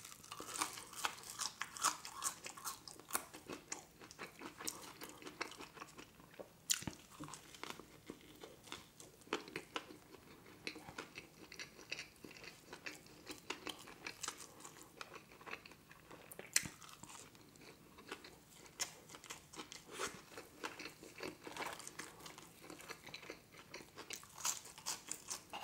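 Someone eating a McDonald's Grand Mac burger, with soft, close chewing, biting and occasional crinkling of wrapper paper repeating steadily through a quiet room, no talking.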